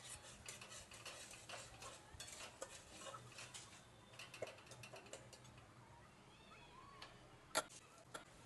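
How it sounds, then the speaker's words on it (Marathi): A spoon stirs egg curry masala with garam masala in a pan, making faint repeated scraping and ticking against the metal over a low steady background hiss. "मिक्स करून घेते."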